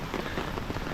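Tropical storm rain falls steadily on Siquijor island in the Philippines, a dense, even patter of drops on surfaces heard alone for about a second.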